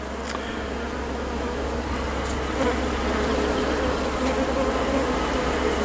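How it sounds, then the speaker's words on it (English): Honey bees swarming over an open hive during an inspection, a dense, continuous close buzzing with a low steady hum underneath and no talk. "a lot of bees in the way."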